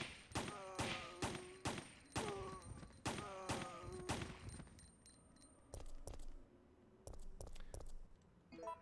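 Gunfire in Resident Evil 3: Nemesis: a run of sharp, loud shots in a steady rhythm over the first few seconds, then a handful of isolated single shots after a brief lull, alone without talk.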